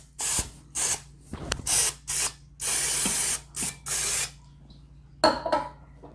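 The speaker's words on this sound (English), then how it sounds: "just spray some more oil." Cooking oil is sprayed onto chicken drumsticks for air-fried KFC-style chicken in an Instant Pot air fryer lid, heard as about ten short, loud hissing bursts with brief pauses between them.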